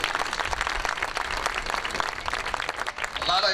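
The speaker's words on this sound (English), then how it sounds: "Give Detroit a round of applause" An outdoor evening crowd in downtown Detroit at a justice tribute awards event claps steadily and densely for the whole stretch, and a voice rises briefly near the end.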